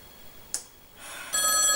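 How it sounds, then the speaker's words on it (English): A telephone starts ringing near the end with a steady, bright electronic trill, after a soft click and a rising hiss in a quiet room. "my phone's ringing"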